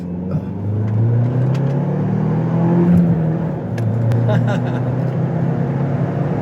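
A manual Ford Bronco with a 2.3-liter turbo engine accelerates from second gear, heard from inside as a loud, rising engine drone that climbs and pulls steadily, with a brief dip partway through.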